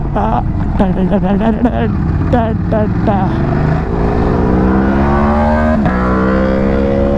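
An Aprilia Tuono 1100 V4 four-cylinder motorcycle revs on a breakfast ride, with a close, loud engine blipping in quick bursts before pulling into a long, steady rising climb through the gears.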